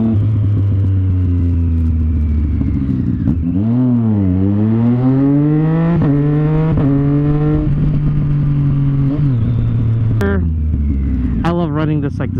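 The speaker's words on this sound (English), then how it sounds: "This like this tunnel right here, especially with this exhaust." Motorcycle exhaust echoes inside a tunnel, engine rumbling steadily with repeated rising revs and gear changes, loud and close throughout.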